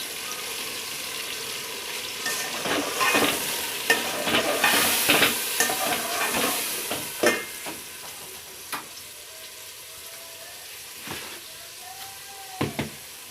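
Ground green chilies and tomatoes sizzle and fry in a pot for chicken pulao, with repeated spoon stirs and scrapes over a steady hiss that eases toward the end.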